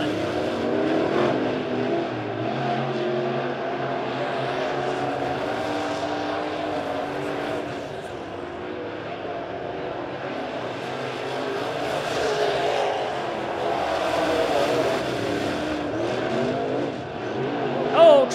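USRA A-Modified race cars run at speed on the Springfield Raceway dirt oval, a steady, dense roar of several engines that swells and fades as they circle, with no talk over it.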